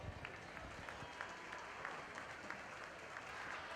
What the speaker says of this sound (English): Let's go ahead and give him a round of applause.